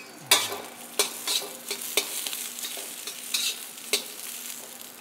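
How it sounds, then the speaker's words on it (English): Chopped garlic sears in a hot pan with beans. A steady close sizzle is broken by repeated sharp scrapes and taps of stirring at an uneven rhythm, with no voices. "So you can see how that sears, it sears very nicely."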